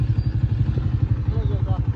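A motorcycle being wheeled out and started, its engine thudding in a steady, low, pulsing idle throughout the two seconds, close by and fairly loud, with a little clatter on top and no clear speech.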